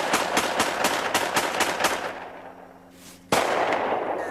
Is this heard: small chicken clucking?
no